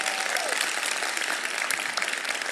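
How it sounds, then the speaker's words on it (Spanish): Steady applause fills a church as the audience claps continuously, a dense, even wash of hand claps at moderate loudness with faint voices mixed in. "Un aplauso para el Señor."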